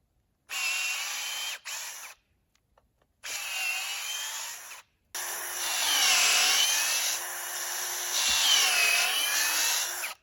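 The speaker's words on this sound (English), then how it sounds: "Let's go drill some holes in the end of this" A power drill whirs in several bursts, pausing briefly between them, its motor pitch shifting as it bores holes into the end of a pressure-treated wooden fence post close by.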